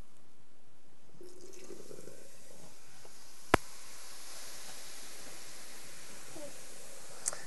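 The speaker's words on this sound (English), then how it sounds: "we have our baking soda, and now we're going to combine our vinegar." Vinegar is poured onto baking soda for a chemistry demonstration, giving a faint, quiet fizzing hiss that builds slowly, with a single sharp click midway and a tiny tick near the end.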